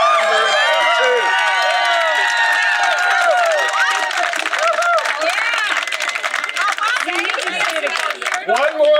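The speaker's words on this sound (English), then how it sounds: "I think you clap too loud even for me" Audience at a Norman, Oklahoma city meeting on TIF arena financing breaks into loud, sustained applause and excited cheering, many voices whooping close by over dense clapping.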